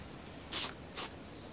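Two short hissing bursts of spray contact adhesive from a can, the first longer than the second, close and sharp against a quiet background during car glass reassembly on a Mitsubishi Sigma.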